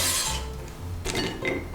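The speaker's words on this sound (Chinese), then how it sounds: "把红萝卜放入盘中。" Sliced carrots are set onto a plate with a couple of light clinks and clatters of dishware, close and fairly quiet, with no voices.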